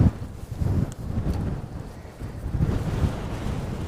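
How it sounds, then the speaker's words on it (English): Wind roars across the microphone during a bike ride in Namyang, South Korea, a loud, steady buffeting rumble that surges and eases without pause. "Ooh, that's windy."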